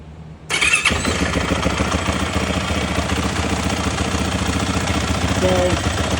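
A 2023 Yamaha WR450 dirt bike with a stock silencer in the exhaust cranks briefly, catches and settles into a loud, steady, close-up idle.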